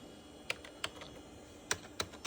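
Keys on a Gateway 2000 P5-90 tower PC's keyboard clack in sparse, sharp, close taps, about six separate presses with pauses between them, in a quiet room.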